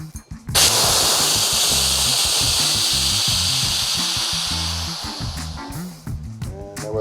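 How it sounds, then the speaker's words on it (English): Compressed CO2 bursts out of a beer keg as pressure is released, making a loud, sustained hiss that starts suddenly and fades slowly. Low clunks and handling noises run beneath it. "then we're going to release the pressure in the keg, what we've just put in there, so we can remove the lid"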